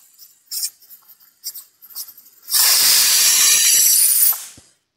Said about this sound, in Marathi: 2 शिट्ट्या झाल्या आहेत आपल्या